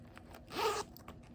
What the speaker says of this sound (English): And the zipper is kind of big and like very catchy